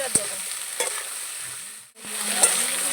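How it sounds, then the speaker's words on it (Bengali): Spices and pui metuli (Malabar spinach stems) being sautéed in a pan in a rustic village kitchen: a steady close sizzle with a few sharp stirring scrapes and clinks, no talk. "সব কিছু ভালো করে একটু কষিয়ে নেব"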